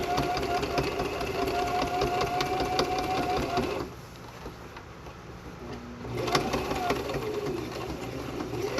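A sewing machine stitches elastic around a fabric sleep mask, its fast mechanical whir running steady and close. The motor stops for about two seconds partway through, then starts up again.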